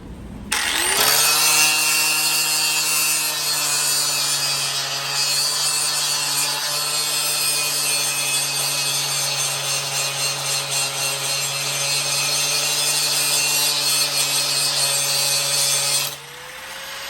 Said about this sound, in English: that old grinding wheel's not doing much